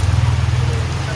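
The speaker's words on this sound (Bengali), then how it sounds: "এখন বৃষ্টি পড়ছে" Rain pattering steadily outdoors near a gate, with low rumbling undertone from a nearby road, brief and fairly close.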